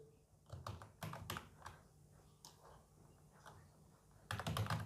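Quick, light keystrokes on a computer keyboard while entering a spreadsheet, clicking in small uneven clusters, near and quiet, ending in a denser run of taps.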